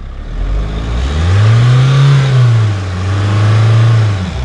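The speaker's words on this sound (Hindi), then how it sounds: "हल्का सा एक्सेलरेट खींचो और उसके बाद ब्रेक छोड़ देना" A Mahindra Thar engine revs while accelerating off-road, swelling up to a loud, close roar, easing back, then holding a second, steadier rev before it dies down.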